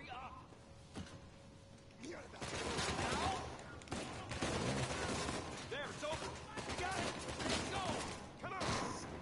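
Gunfire in the video game Uncharted 4, repeated loud shots and bursts over several seconds with mechanical clatter, while someone talks over the action.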